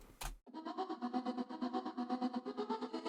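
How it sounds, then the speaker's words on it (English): A processed vocal with a choppy, gated effect pulses in rapid rhythmic bursts, the sound cutting on and off in a steady stutter. "the reverb that you're using on the vocal, if you're using sends and returns, is also getting gated"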